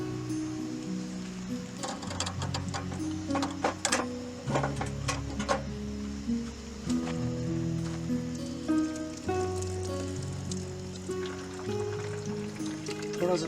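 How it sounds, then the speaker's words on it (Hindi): Pasta water being drained at a jungle campsite: a continuous splashing, trickling pour with clinks of a pot and utensils, close and moderately loud, steady throughout with a few sharper metallic knocks. "हम अभी इसका पानी ड्रेन करेंगे।"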